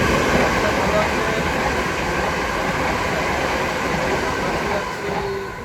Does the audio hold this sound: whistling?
no